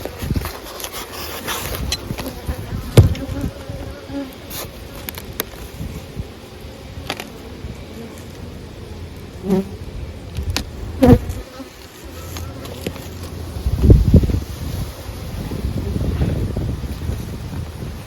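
Honeybees buzz around an opened beehive honey super, a steady insect drone with louder swells as bees pass near, plus occasional wind rumble and handling bumps.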